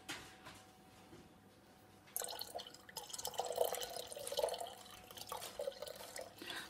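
Organic vinegar, a few centiliters, trickles and drips into a container, faint at first and then a soft splashing pour lasting several seconds with scattered droplets.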